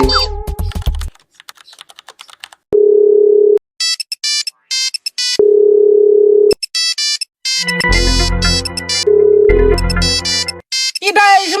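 A phone ringtone sounds in two long, loud steady bursts and a shorter one later, with bright keypad-like beeps and chatter from a comic village scene in between.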